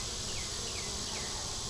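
Honey bees swarm at an open, crowded hive, a dense continuous buzz filling the air with no pauses, loud and close, with no voices.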